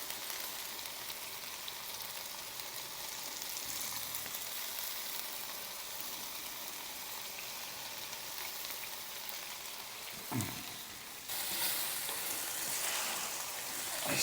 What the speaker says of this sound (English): our veggies should be browning on the bottom